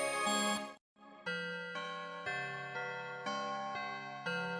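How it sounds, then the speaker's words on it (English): A bell-tone preset on the Oscidia synth app by 4Pockets plays a sequence of bright, ringing notes that step from pitch to pitch, each sustaining with shimmering overtones, after a short break near the start. "So we got a demented bell tone."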